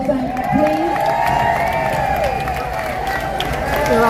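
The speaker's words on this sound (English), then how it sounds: "can we give Dougie a better round of applause" A crowd at a live outdoor jazz concert cheers and claps, a dense wash of applause and whoops with voices rising through it, steady and fairly close for a few seconds.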